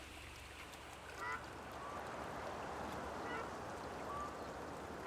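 Waterfowl call across a Volga delta wetland in autumn: several short honking and quacking notes come and go at a distance over a steady broadband background of wind and water, with no voices.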